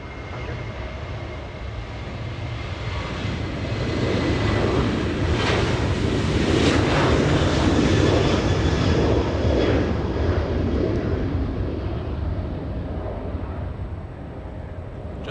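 A Southwest Airlines jet departs Los Angeles International Airport, its steady engine roar swelling in the middle and holding strong before easing slightly, with no talk over it.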